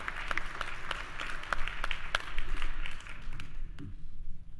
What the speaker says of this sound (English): Can we give Dr. Lanier another round of applause, too?